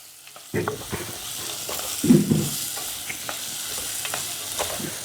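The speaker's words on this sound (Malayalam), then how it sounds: "6-7 അല്ലി വെളുത്തുള്ളി, 2 പച്ചമുളക് അരിഞ്ഞത്, കുറച്ച് കറിവേപ്പില, എല്ലാം കൂടെ ഒന്ന് വഴറ്റാം." Garlic cloves, chopped green chilies and curry leaves sauté in hot oil in a pan for a Kerala-style curry, a steady close sizzle broken by a few louder stirring scrapes, with no talking.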